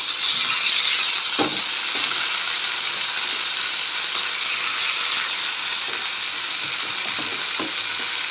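Thinly sliced tomatoes fry in a hot pan for tomato rice, giving a steady, dense sizzle that runs throughout with a few faint stirring clicks and scrapes.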